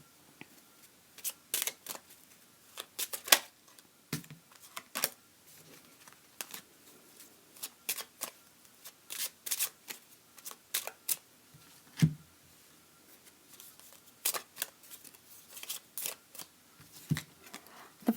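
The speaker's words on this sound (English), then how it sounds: "I'll go ahead and pull 3 cards for the month of October." Cards are shuffled and drawn one by one for an astrology card reading, with quick close-up bursts of riffling and snapping separated by short pauses, loud against a quiet room.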